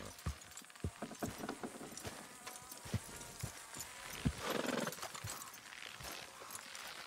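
Horse hooves clip-clop at a steady walk in the Red Dead Redemption 2 video game, with close, regular hoof strikes, harness jingle and creaking gear throughout.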